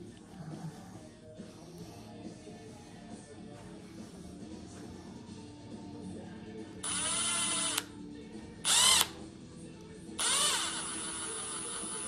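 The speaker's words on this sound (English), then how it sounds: "So right now we're going to go ahead and drill this out." Small drill boring into a Stihl MS170 chainsaw carburetor, three brief high-pitched whirring bursts, quiet and close, over a low steady background hum.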